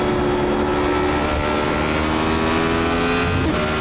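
A Radical SR8 race car's engine drones at high speed around Spa-Francorchamps in iRacing, a loud, steady, slightly strained tone running near top speed throughout, with no voices.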